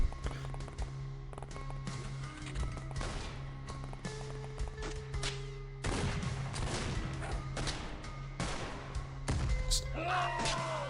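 Grenade blast in the X-Com Files strategy game: a sharp thud and crash among scattered gunfire and impacts, mid-distance, with a speaking voice over parts of the action.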